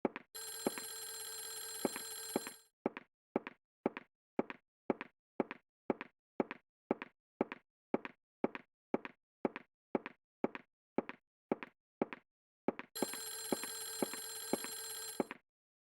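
A telephone rings inside the horror game Clock Tower: The First Fear, a steady run of short, evenly spaced electronic bell bursts between two longer sustained tones at the start and end, loud and with no voices.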